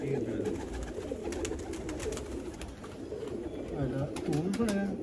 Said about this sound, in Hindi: सियालकोटी काले मुंह वाले कबूतर